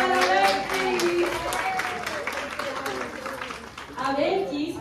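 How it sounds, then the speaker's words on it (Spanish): An audience at a Dominican Chamber of Commerce USA event claps for journalist Berkis Martínez, scattered crisp hand claps running throughout beneath a speaker's voice. "Otro aplauso para Berkis."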